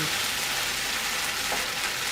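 Rice noodles being stir-fried in a nonstick pan over a gas stove give a continuous, even sizzle with a soft frying hiss throughout, close by and fairly loud, with no voices.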